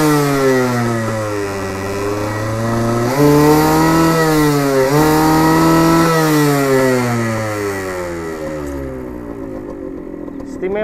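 A 2004 Suzuki TS 125 motorcycle engine revs up and down repeatedly, rising and falling pitch with a buzzy two-stroke rasp, loud and close.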